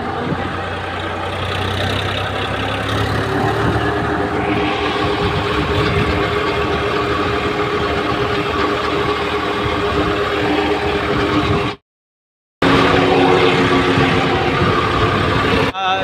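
An old blue tractor engine runs steadily and loudly throughout while being driven to the showroom, a continuous low rumble with a brief cut-out near the end.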